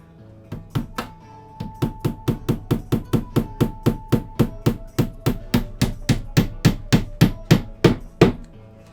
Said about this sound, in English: I hope you guys like that good hammering ASMR because it is right next to the fucking microphone.